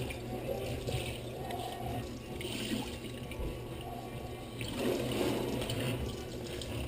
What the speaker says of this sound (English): Wash off both sides of the skate.